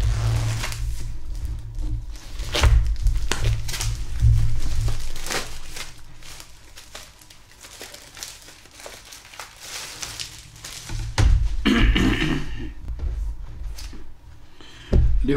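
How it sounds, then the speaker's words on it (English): Plastic wrapping crinkles and tears as it is pulled off wooden sheets for a wooden clockwork train kit, a close run of loud crumpling, rustling bursts with thuddy handling noises and no talk. "just get the plastic off"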